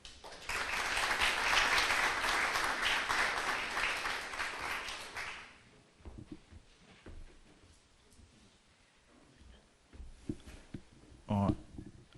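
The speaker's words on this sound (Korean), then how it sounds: "큰 박수로 맞이해 주시면 감사하겠습니다" An audience at a logistics conference gives a speaker a warm welcome with loud, sustained applause for about five seconds, which then fades to scattered handling noises and a voice briefly speaking near the end.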